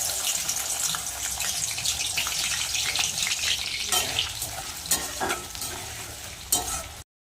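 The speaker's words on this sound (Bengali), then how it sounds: "তেল কিন্তু গরম হয়ে গেছে সবার প্রথমে ভেজে নেবো শুটকি মাছগুলো" Dried fish frying in hot oil in a wok, a steady close sizzle and crackle throughout with occasional stirring scrapes and clinks near the end.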